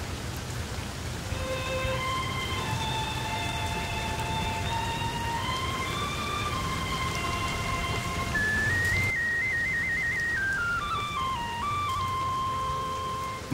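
Steady rain falls outside, a continuous hiss lasting the full stretch, while a whistled melody drifts over it and no one speaks.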